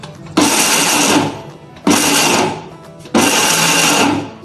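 A kitchen mixer grinder pulses dry coconut in three short, loud bursts, each a whirring grind of about a second separated by brief pauses, heard up close with no talking.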